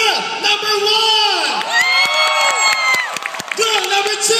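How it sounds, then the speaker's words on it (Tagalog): Crowd of a live variety show audience cheering and whooping loudly, with high shouts and screams rising and falling over scattered clapping, close and continuous throughout. "sa pamamagitan po ng palakpak na may kasamang hiyaw"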